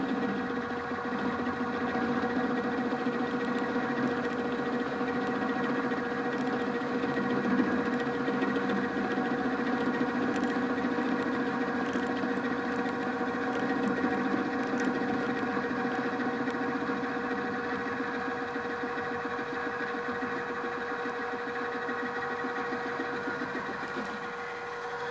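Machine tool cutting across a metal part on a shop machine, a steady loud rumbling drone with tonal chatter running continuously and evenly throughout, no voices.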